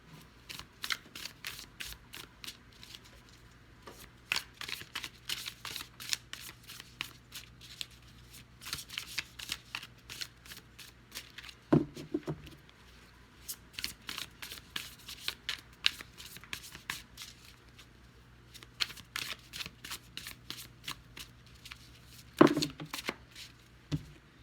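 Tarot cards shuffled by hand for a card reading: repeated bursts of quick riffling and flicking, close and soft, with a couple of sharper taps between the shuffling runs.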